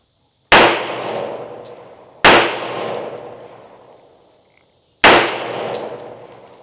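Three loud, sharp shots from a Hi Point JHP .45 pistol ring out at an outdoor range, each a hard crack with a long ringing decay, spaced about two seconds apart.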